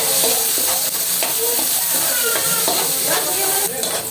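Onion goes into a pan of browning garlic for pinakbet, frying with a loud, dense close sizzle and crackling splatter pops, stirred now and then, without talk.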